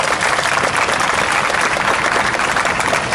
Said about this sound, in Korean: 우리 스스로를 위해서 다시 한번 힘찬 박수를 쳤으면 좋겠습니다